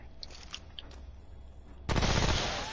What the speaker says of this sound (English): Oh, we've got a submachine gun now.